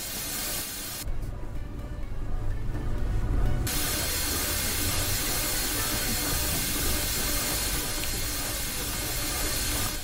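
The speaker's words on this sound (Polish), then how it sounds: "No i takim parowozem dzisiaj będziemy się poruszać. Odhamujmy więc skład." Steam locomotive brakes releasing in Train Simulator 2021, a passenger train on a mountain line: a steady broad hiss of escaping air and steam with a low rumble beneath, brief muffled change early on, no talk.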